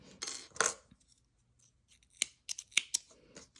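Scissors cut yarn while ends are woven into a knitted hand band: a few quiet, crisp snips spaced apart against near silence.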